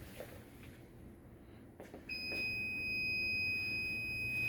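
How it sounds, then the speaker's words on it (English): After a quiet stretch, a high electronic alarm tone starts and holds steady, moderately loud over a low background hum. "and then the alarm would go off"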